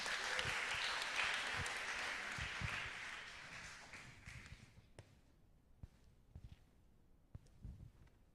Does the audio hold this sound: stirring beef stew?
no